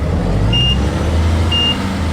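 Reversing beeps from a 2018 Volvo VNL truck in American Truck Simulator, two sharp high beeps about a second apart over a steady low engine rumble.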